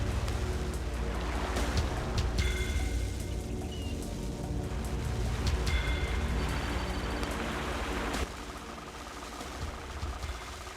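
Ship engines and churning water in Red Alert 2, a steady low rumble under a broad wash of surf-like noise, continuous and fairly loud, with a few brief tonal blips.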